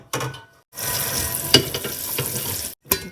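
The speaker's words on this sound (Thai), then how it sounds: "เดี๋ยวมาใส่น้ำกัน" Water splashes onto sprouting mung beans in a few close bursts, a short pour, a longer rushing stream, then a brief final splash, separated by moments of silence.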